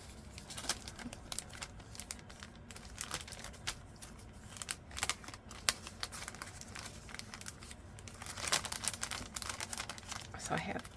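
A fat quarter of cotton fabric with an all-over blue rose print being handled, soft crinkling and rustling in scattered bursts, close and quiet, with a voice talking at times.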